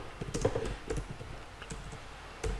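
Typing on a computer keyboard while coding, a quick run of close key clicks with a few louder taps and brief pauses, no talking.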